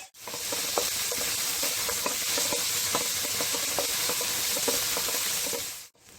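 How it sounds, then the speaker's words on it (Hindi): Onions sautéing lightly in a pan for California cheesy burger sliders give a steady, close sizzle with scattered crackles and soft stirring taps, running continuously before cutting off near the end. "प्याज को हम हल्का सा सौटे करेंगे, बहुत ज़्यादा इसको देर तक नहीं पकाएंगे।"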